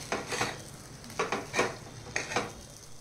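Cardamom powder being stirred into ghee-roasted semolina for a mango sheera, with a spoon scraping the pan in several short bursts over a soft sizzle, no voices.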